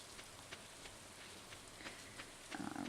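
Rain in the game Stardew Valley, a faint steady patter with soft droplet ticks and a brief louder rustle at the end, alone and quiet.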